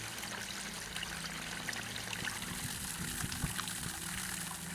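Water sprayed onto roof valleys during a leak test, a steady rushing, trickling spray with light splashing, continuous and fairly faint, with no talk.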